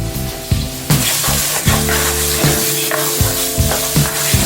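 Garlic, tomato and onions sizzle and fry on a stove for shrimp vegetable curry, a steady loud hiss broken by repeated stirring scrapes and clatters close by, with no talking.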